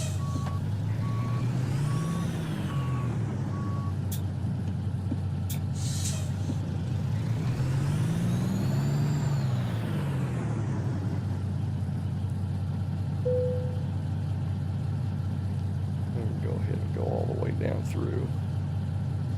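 A truck in American Truck Simulator backs up and parks, with reversing beeps, a rising and falling diesel engine drone and a hiss of air brakes near the end, loud and steady.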